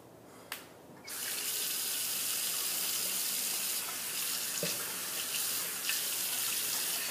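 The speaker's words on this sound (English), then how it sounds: "I'm just going to rinse the brush off, or the razor off, and warm up the head a little bit" A tap turns on and water runs steadily into a sink as a razor is rinsed, a continuous close hiss and splash after a short click, with slight changes as the razor moves through the stream.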